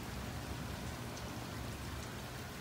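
Heavy rain pours steadily during a thunderstorm outside a house, a dense, loud, unbroken hiss with no thunder or voices.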